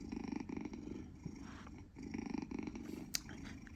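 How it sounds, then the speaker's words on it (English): Talking Tom cartoon cat in the Outfit7 app purring steadily as it is rubbed, a close, continuous low rumbling rhythm with no talking. "you can also make him purr by rubbing him like this"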